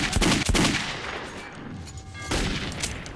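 Gunfire in the video game Metro 2033, with a rapid cluster of sharp shots followed by a second burst, loud and close over a dense background.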